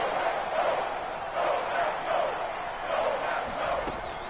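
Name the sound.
stadium crowd getting louder in Madden 22 video game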